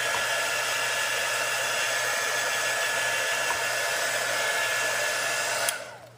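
A hair dryer blowing to dry ink on a mixed media card, a loud steady whooshing hum close by that holds constant and cuts off at the end.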